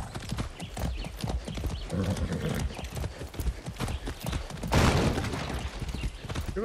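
A horse gallops in the video game Far Cry 6 with a steady, close clip-clop of hooves, and a louder burst near the end that sounds like a neigh.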